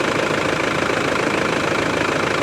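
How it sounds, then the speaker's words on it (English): Vehicle engine idling in a shop with a running-cool condition from a gummed-up heater core, a loud, steady, close mechanical drone with a constant vibrating texture and no talk. "I have not shut the vehicle off."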